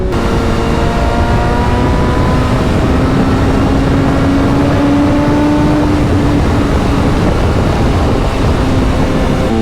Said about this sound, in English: Oh, those downshifts, boy.